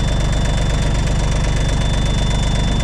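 A Yanmar C30R firefighting dump crawler with about 2,400 hours runs close by, its engine a steady, slightly rattly knock with an even, rapid beat and no voices.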